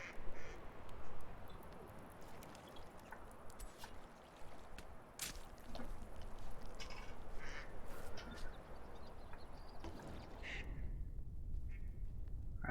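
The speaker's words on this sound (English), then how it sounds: "there's a duck down here in the bottom of the water I can't see" In the video game Medieval Dynasty, a duck in the water gives a few quacks amid a dense wash of splashing and ambient game noise, with no voices.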